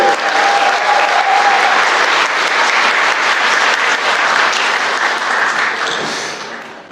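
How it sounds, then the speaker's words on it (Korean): A large audience at a Bucheon Geumgang Village redevelopment briefing meeting applauds loudly and steadily to welcome a speaker, the dense clapping holding for several seconds before tapering off toward the end. "박수로 맞아주십시오."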